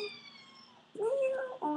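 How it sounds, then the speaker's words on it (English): Domestic cat meowing indoors, two close meows in a row, the second cutting off at the end, following a quieter stretch of faint room noise. "Oh, kitty."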